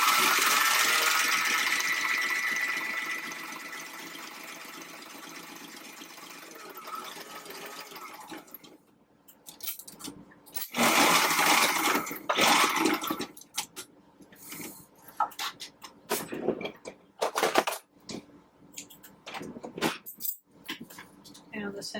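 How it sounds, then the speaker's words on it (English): Sewing machine running a row of stitching along the hem of a pleated fabric face mask, a steady whirring hum for the first several seconds, then short stop-start bursts with small clicks and handling noises. "I'm just going to run along a row of stitching here."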